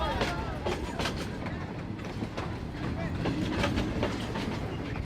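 A moving freight train on the Mexican route toward the US border rumbles and clatters continuously, its wheels giving a rhythmic clickety-clack over steady mechanical noise.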